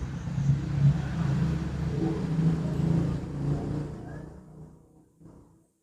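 Moderately busy road traffic on a Saturday near Bantul and Kulon Progo, Yogyakarta, with a steady broadband rumble of cars and motorbikes passing close by, fading off toward the end.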